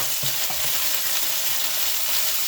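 Chicken fries in a pan with cumin, a steady, loud sizzle with a few soft stirring knocks near the start.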